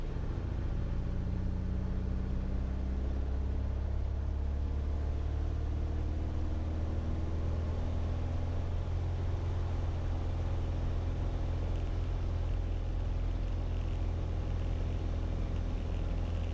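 Light turbocharged single-engine aeroplane on its takeoff roll from the runway, a steady loud engine drone with deep rumble and rising harmonic tones, continuous and close throughout.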